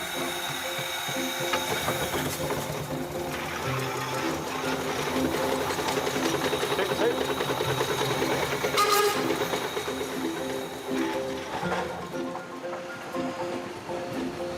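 A steam engine on its final test drive in Devon, a steady rhythmic chuffing and mechanical clatter running close and continuous with a brief hiss near the middle.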